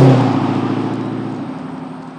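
A Dodge Hellcat engine roars through an active exhaust system, starting loud and close with a deep, throbbing rumble that pulses rhythmically and slowly fades as it recedes.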